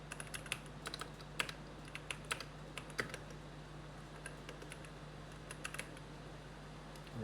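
Computer keyboard typing as a name is entered into a restaurant ordering application, a quiet, irregular run of close key clicks over a low steady hum, with no talking.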